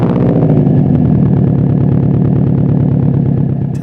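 A Subaru WRX making about 424 wheel horsepower, fitted with an Invidia R400 exhaust, idling close up; a loud, steady, droning burble with an even rhythmic pulse and no talking.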